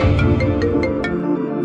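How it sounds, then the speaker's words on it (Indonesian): A phone rings in a short repeating electronic pattern of bright tones, loud and close, with no speech. "Nona, ada telepon."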